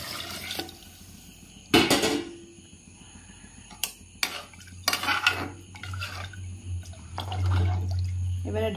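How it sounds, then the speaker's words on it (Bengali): Soaking water from rice poured into a cooker for chicken pulao, a splashing liquid pour with clattering pot and utensil knocks over a steady low hum from a gas flame. "এরপরে ভিজিয়ে রাখা জলটা দিয়ে দিচ্ছি।"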